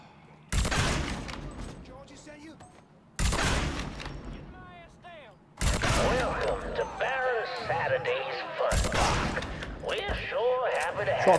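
Gunfire in Mafia 3 Definitive Edition comes as four sharp, loud bursts spaced a few seconds apart, with shouting voices and chatter filling the gaps between shots.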